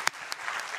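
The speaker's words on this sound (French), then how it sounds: "Alors, on applaudit," Brief burst of audience clapping at a conference session on detection, exposure and effects, heard close and fairly faint for under a second.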